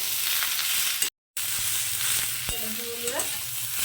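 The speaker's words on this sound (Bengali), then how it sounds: "এবার এগুলো সব একসঙ্গে খুব ভালো করে একটু কষিয়ে নেবো এখন ভাজা ভাজা করে নেবো" Vegetable stalks for data chachchari sizzle loudly in a hot pan while a utensil scrapes and stirs, with a brief silent cut partway through.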